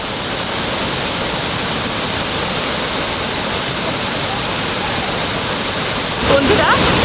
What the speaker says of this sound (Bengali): 100 ফুট উঁচু থেকে সানাঘাগড়া জলপ্রপাতটি পাথরের বুক চিরে বয়ে চলেছে